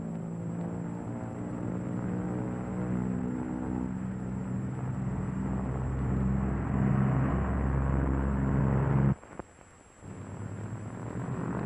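Twin piston engines of a Lockheed P-38 Lightning roar steadily during a takeoff run, then the sound drops abruptly as the right engine is cut to simulate a failure.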